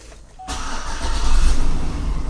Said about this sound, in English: we're going to start the vehicle with the key